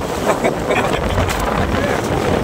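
Strong swirling typhoon wind (Typhoon Wilma) roars and gusts loudly against the microphone while a fishing net is hauled, a constant turbulent rush with water and boat noise mixed in.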